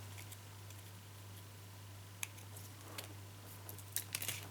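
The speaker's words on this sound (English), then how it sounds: "I'm going to cut that little bit of stalk off first" A few faint snips from scissors trimming a small stalk piece off paper during card making, with sparse crisp clicks clustered near the end over a quiet steady room hum.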